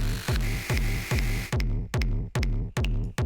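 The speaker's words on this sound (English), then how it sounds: "I've included another kick just out of a sample pack" Layered electronic kick drums, a heavily processed 909-style kick combined with a sample pack kick, pound in a steady repeated pattern of about eight punchy, booming hits, the later ones tighter with clear gaps between them.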